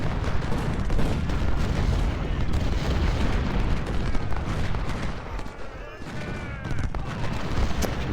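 Continuous roar of Civil War battle in Ultimate General: Civil War, dense musket fusillades and booming artillery blending into a loud, unbroken wall of sound.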